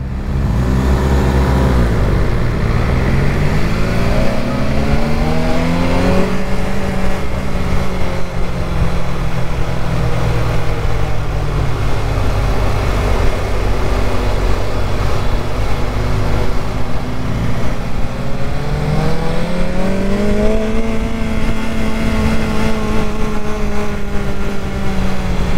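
A BMW S1000XR motorcycle engine revving hard in first gear, loud and close, with the pitch climbing, dropping back and rising again in long sweeps over a steady roar.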